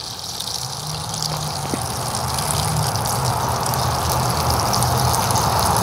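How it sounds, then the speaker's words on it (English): Water draining out of a travel trailer's gray tank, a steady continuous gush and trickle with a low mechanical hum beneath, holding an even level throughout. "So we're gonna go ahead and just drain out that little bit of water that's in there."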